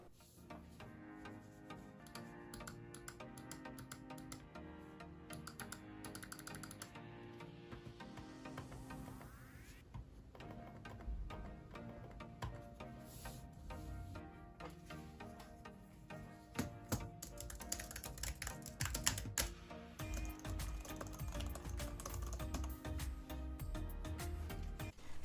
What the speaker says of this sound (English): now I'm just testing the sounds and the clickiness of the keys of the keyboard and the mouse